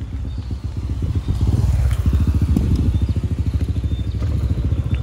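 Yamaha Aerox scooter fitted with a Juken ECU, its engine and exhaust running up close with a throbbing, rapid pulsing rumble and slight revving, loud and continuous without speech.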